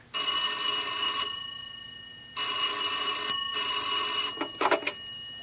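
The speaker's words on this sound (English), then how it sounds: "he waited for the phone to ring." A telephone bell rings as a radio drama sound effect, two long loud rings separated by a short pause, followed by a brief clatter as the receiver is picked up.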